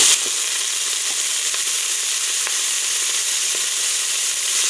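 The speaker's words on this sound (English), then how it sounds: "I'm going to get a little bit of oil in here, and we're going to cook up the onions and some ground beef" Onions and ground beef fry in oil in a pan, giving a loud, steady broadband sizzle with faint crackles and pops throughout and no talking.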